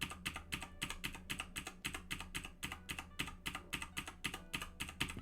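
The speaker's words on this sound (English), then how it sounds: "Don't mind me just tapping the keyboard like there's no tomorrow." Rapid typing on a computer keyboard, with fast, even runs of crisp key clicks at close range and no voices, continuing steadily throughout.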